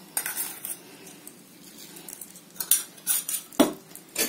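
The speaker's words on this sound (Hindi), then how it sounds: "इन सारी चीजों को अच्छी तरह से मटन में मिक्स कर लेते हैं" Spices are mixed into raw mutton for curry, close metallic scrapes and clinks of a spoon against a bowl coming in irregular bursts, quieter in the middle and busier toward the end, with no speech.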